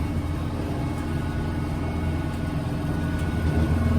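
A Kubota M7060 tractor engine drones as a low, steady rumble heard from inside the quiet cab, even and unbroken throughout.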